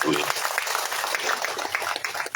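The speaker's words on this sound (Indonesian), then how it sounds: "Kita tepuk tangan." Dense applause from a crowd at a sub-district development planning meeting in Umalulu, East Sumba, Indonesia, fills the clip, with a voice talking over the clapping.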